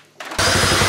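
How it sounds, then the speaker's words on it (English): A power drill drives a screw during a home gym DIY build. The drill starts abruptly, then holds as a loud, close, steady whirring grind with a rapid ratcheting pulse. "look at me go with the drill"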